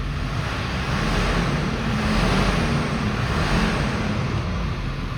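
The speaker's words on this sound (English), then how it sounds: "And as you can hear, stock exhaust." A Ford F350 crew-cab 4x4 with a 7.3L Powerstroke diesel and stock exhaust idles steadily, giving a continuous low rumble with broadband hiss that holds level throughout, heard close with no talking.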